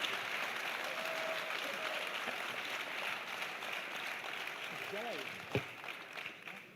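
A crowd at an OKTAGON MMA press event applauds to welcome two fighters, with a dense, even patter of clapping that slowly thins out. A voice speaks briefly near the end.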